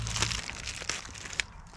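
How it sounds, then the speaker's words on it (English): A plastic bag crinkling and rustling in gloved hands during a headlight install on a 2003-2006 Chevrolet Silverado, a few short, close crackles in quiet surroundings. "these gloves make it impossible to grab this plastic bag"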